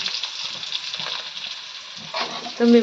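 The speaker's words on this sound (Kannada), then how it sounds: "ಇದು ಚಿಕನ್ಗೆ ಒಗ್ಗರಣೆ ಫಸ್ಟ್ ನೋಡಿ" A tempering for chicken crackles in hot oil in a pan, a soft fizzing sizzle that swells near the end, with a brief tonal ring and faint background voices.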